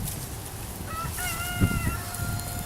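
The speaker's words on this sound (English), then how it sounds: "No, that's a rooster." A rooster crows once over a steady background hum, the call rising and holding for about a second before fading.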